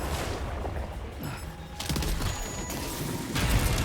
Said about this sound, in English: Multi-rocket launcher.